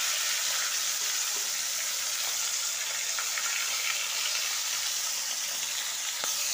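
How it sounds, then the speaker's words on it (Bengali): Prawns coated in salt and turmeric fry in hot oil, a dense, even hiss of sizzling held close and loud throughout with a few faint crackles and no talking. "তো চিংড়ি মাছগুলো এবার ভেজে নেবো আমি"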